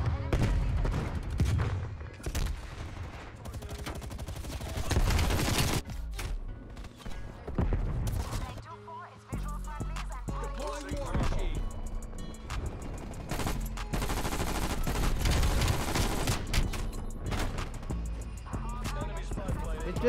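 Vargo 52 assault rifle in Call of Duty Cold War firing repeated rapid bursts and sustained automatic fire, loud and close, mixed with game sounds and a voice talking over parts of it.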